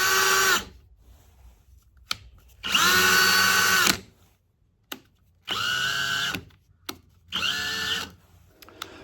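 Repaired Ryobi 18-volt cordless drill runs in four separate bursts of steady whirring, each lasting one to two seconds, with short quiet gaps and small clicks between them, loud and close with no talking.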